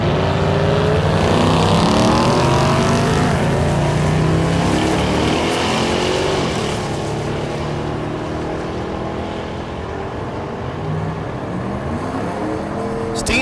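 At a drag strip at Thunder Valley in Noble, Oklahoma, a Mustang and a second-generation F-body race side by side. Loud engines roar and climb in pitch through the gears for several seconds, then ease off and fade, with voices over the noise.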